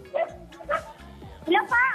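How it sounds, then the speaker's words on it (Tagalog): A dog barks loudly about four times in irregular bursts near the microphone during a street home-visit segment of a Filipino TV variety show, with people talking around the barks. "Ang lakas ng aso, ah."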